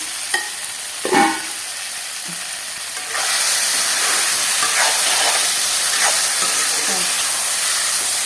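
Guti Kochu curry cooks in a covered pot with a steady sizzling hiss. A few clinks and knocks come first, then the steam noise grows louder and continues without a break.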